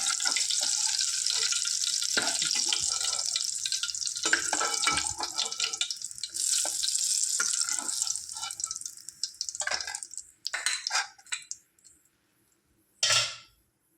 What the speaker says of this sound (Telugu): జీలకర్ర ఆవాలు శనగపప్పు పోపు చేసుకున్నాం ఫ్రెండ్స్ అందులోనే కొద్దిగా కరివేపాకు